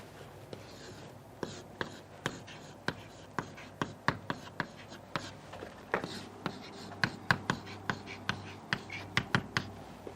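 Chalk or marker taps and strokes across a classroom board as a heading for a physics lecture is written, a quick irregular series of sharp clicks and scrapes, fairly close, with no talk.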